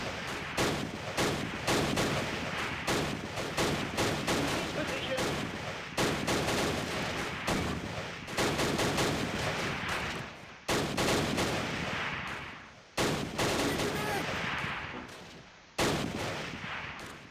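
Battle gunfire in the Close Combat: Last Stand Arnhem war game: sustained, dense, loud volleys and rattling bursts, broken by a few brief pauses.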